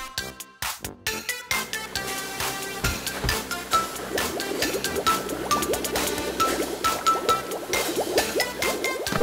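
Cartoon truck wash rinsing mud off a baby truck, with gurgling, splashing water and bubbly liquid sounds, starting in choppy bursts and then running steadily, fairly close with no speech.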